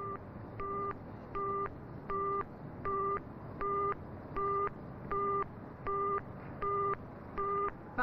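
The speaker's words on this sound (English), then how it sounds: "Listen, can you hear the buzzing in the earpiece?" An engaged tone buzzes in the earpiece of a 1960s telephone, about a dozen evenly spaced pulses separated by short gaps, faint and alone on a quiet line.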